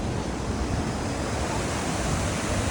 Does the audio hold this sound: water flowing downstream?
yes